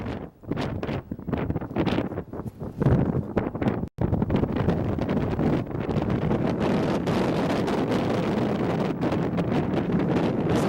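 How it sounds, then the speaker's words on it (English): Cold Arctic wind blows hard across open snow and ice where reindeer graze, loud gusting roar buffeting the microphone in uneven surges, with a sudden brief dropout partway through and no voices. "this is just 30 seconds to give you a feel of how cold and windy it is there."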